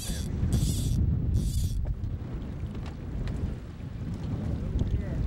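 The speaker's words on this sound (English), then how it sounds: "it did get a little windy" Wind gusts across a lake during a fly-fishing trip for large northern pike at Esnagami, a steady rough rumble with buffeting on the microphone, and a few sharp bursts of noise near the start.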